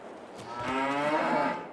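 A cow in a barn in Farming Simulator 22 gives a single long, low moo, close and fairly loud, rising and fading over under two seconds with nobody talking.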